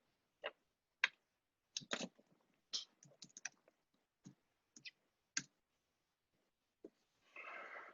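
Computer keyboard typing: a dozen or so separate, sharp key clicks spaced irregularly across several seconds, ending in a short burst of faint rustle, with no talk.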